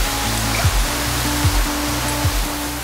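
The Sijambe waterfall pours in a steady, loud rush of white water, with a few low thumps recurring at regular intervals underneath.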